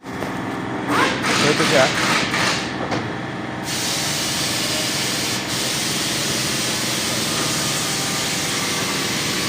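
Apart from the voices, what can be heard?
Lexus GS350 V6 engine running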